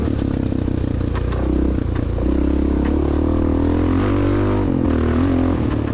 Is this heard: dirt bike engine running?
yes